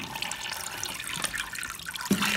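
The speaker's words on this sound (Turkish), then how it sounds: "şu an ev selin altında kaldı ve yıkılmaya çok az kaldı." Flood water rushing and splashing over a model house in a flood experiment, a steady broadband wash of running water that swells louder near the end, close and continuous with no talk.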